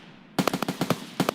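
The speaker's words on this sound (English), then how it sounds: "It sounds like an AK too. Big pop." Gunfire from an AK-style rifle in a game, a quick run of about seven sharp, loud pops in an uneven burst after a moment of near silence.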